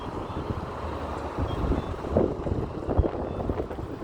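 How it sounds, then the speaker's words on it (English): Steady gusty wind buffeting the microphone among big buildings at Temple Square, Salt Lake City, a continuous low rumble with louder surges, no talking. "It's very windy."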